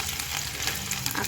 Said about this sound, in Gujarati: હવે આપણે એમાં જીરું એડ કરીશું